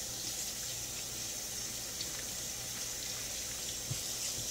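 Tap water runs steadily into a sink while organic golden yellow potatoes are scrubbed beneath it, a constant hiss with faint scrubbing rubs under the flow.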